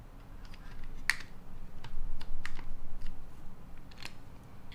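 Tiger 80 prototype mechanical keyboard typed on with heavy pressure, a sparse series of faint, sharp key clacks at an uneven rhythm over a quiet room hiss, with no talk.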